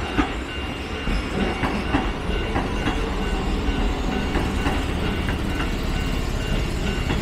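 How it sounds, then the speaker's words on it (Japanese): Keihan 6000 series local train pulling into Korien station on the Keihan Main Line, with rhythmic wheel clicks over rail joints and a steady rumbling hum at close range, no talk. "葛原行きの普通電車ですね、6000系の電車が今郡園駅に到着しました。"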